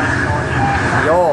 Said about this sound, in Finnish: No nyt tuli toinen juna vastaan.